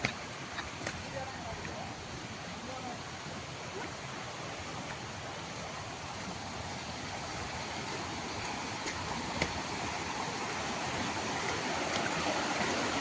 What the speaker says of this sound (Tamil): ஃபால்ஸ். அந்த சத்தம் வெறித்தனமாக கேட்குது.